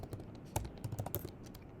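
Rapid, close clicking of keys as commands are typed on a computer keyboard during a Windows WSL software installation, an irregular burst of keystrokes with no talking.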